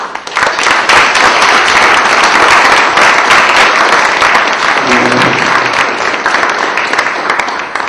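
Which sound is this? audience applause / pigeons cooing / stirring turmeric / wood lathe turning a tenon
audience applause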